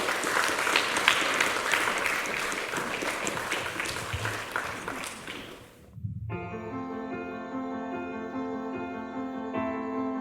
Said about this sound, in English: a massive round of applause for Hayley!